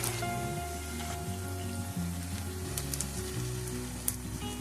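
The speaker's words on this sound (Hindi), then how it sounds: "इसी तरह सारे आलू के जूलियंस को डालेंगे और अच्छे से फ्राई होने देंगे।" Potato juliennes fry in oil with a soft, even sizzle that continues at low level beneath tonal background music, with no speech.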